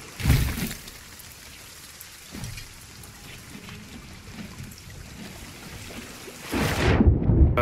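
Thunderstorm with heavy rain in the Sea of Thieves pirate game: a constant hiss of downpour with low rumbles, a loud burst at the start and again near the end, and no speech.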